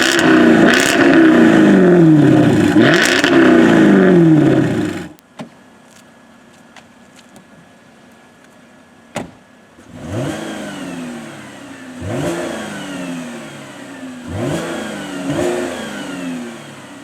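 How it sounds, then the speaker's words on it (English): A Jaguar F-Type V8 S gives two loud engine revs with a throaty exhaust roar, then near silence with a single crackle, followed by several shorter revving blips that rise and fall. "And then there's the exhaust comparison."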